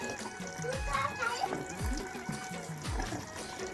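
Hot water trickles weakly from a tap, a thin, uneven splashing and dribbling stream with small gurgles, heard close up with background room noise.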